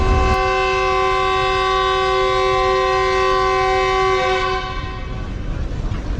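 Tezgam passenger train departing Lahore Junction for Karachi, its loud sustained multi-tone horn blaring close by for several seconds before fading into rumbling rail noise.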